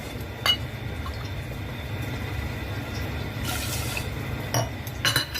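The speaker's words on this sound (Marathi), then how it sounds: "आणि 2 वाट्या पाणी टाकते" Water is poured into sugar to make ghevar syrup, a steady trickle with a few light clinks of the vessel, close and fairly quiet.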